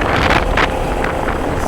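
Strong wind buffets the microphone of a Honda Dio scooter on a long highway ride, a loud rushing roar with gusty bursts and no talking.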